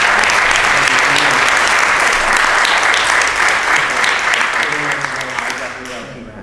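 Strong crowd applause at an honors ceremony, many hands clapping loudly and continuously before gradually tapering off toward the end, with faint voices beneath.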